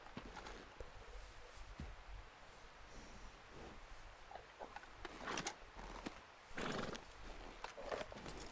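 A horse in the Red Dead Redemption 2 video game clip-clops slowly on the ground and gives a whinny, with rustling nearby, fairly quiet and with no talk.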